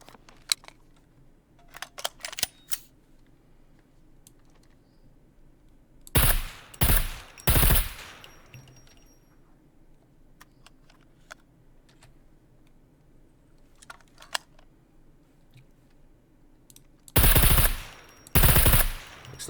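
Rifle fire from a SCAR in the SCUM survival game: a few sharp bursts of shots, loud and close, separated by long quiet gaps with faint clicks and handling noises.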